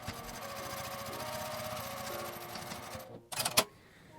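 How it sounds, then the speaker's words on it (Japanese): A sewing machine edge-stitches along the top edge of fabric scraps for a coin purse, running in a steady, fast mechanical patter for about three seconds, then stopping, followed by a brief burst of handling clatter. "上端に端ミシンをかけます。"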